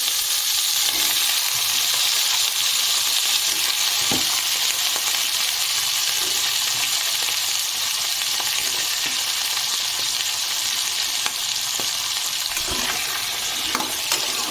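Spices frying on low heat in a pan for a vegetable curry, a steady close sizzle with faint stirring scrapes, continuous and loud throughout with no talk.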